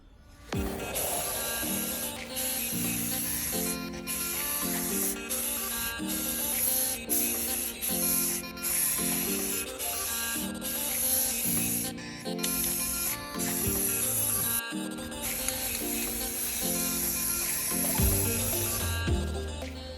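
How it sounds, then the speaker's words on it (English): Steady broadband hiss of a camouflage spray paint can running nearly continuously, with brief pauses, over a bed of background music. "with our camouflage spray paint that I mentioned in the beginning, we're just going to go ahead and give it an all-over coat"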